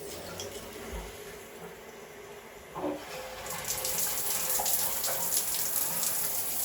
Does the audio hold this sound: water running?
yes